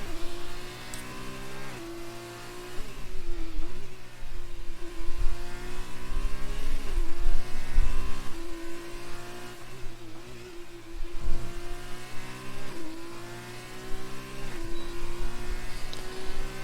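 An F2 race car on its out lap at Monza on soft tyres, engine note rising and falling steadily through gear changes, loud and close throughout with no voices.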